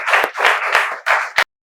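Several people clapping together in a short welcoming burst of about four quick rounds of applause, close and loud, stopping abruptly into silence.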